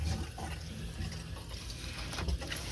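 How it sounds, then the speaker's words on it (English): Faint, steady rush of running water filling a GE Profile dishwasher, with soft clunks and a low hum in a quiet room. "think I hear water running"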